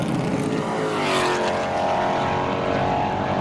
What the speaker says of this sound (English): Here comes my favourite car of the day. The CVR Cigaris and the Ford GT40.